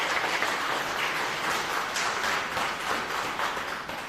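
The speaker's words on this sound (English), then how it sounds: "Let us give ourselves a bigger round of applause." Audience applause at a credit union annual general meeting, a steady wash of many hands clapping at moderate loudness that carries evenly for several seconds without talk.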